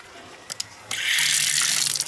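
Water gushing from a tap in a dry rural bathroom, starting after a couple of faint clicks and then pouring loudly and steadily until the end.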